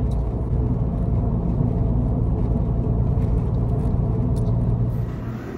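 A Porsche 996 Carrera cruises on an expressway, its engine and road noise a steady, dense low rumble heard from inside the car throughout.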